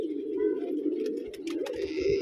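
A pigeon gives a steady, low, throaty coo close by, with faint rustling and brief clicks toward the end.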